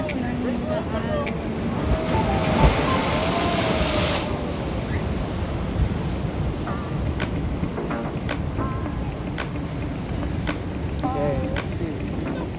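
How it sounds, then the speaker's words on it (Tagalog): Ocean waves crash continuously on a rugged black-sand surf beach, a steady roaring wash of surf with wind buffeting the microphone throughout. "hampas ng mga alon"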